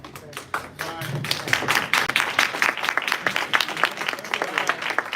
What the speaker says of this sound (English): Y'all give a round of applause again to our first Unleashed recipient, Hannibal